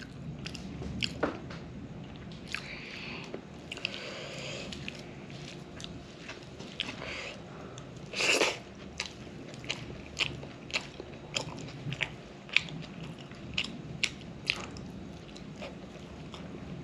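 Close-up eating of boiled lentils and boiled potatoes, soft wet chewing and squishing with sharp bites and clicks scattered through, one louder burst midway, no talk.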